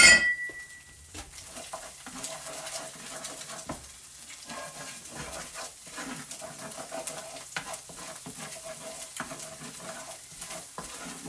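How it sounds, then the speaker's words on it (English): Garlic roasting in oil in a pan, a continuous low sizzle with occasional utensil scrapes and taps, steady and close throughout. "We want to roast our garlic"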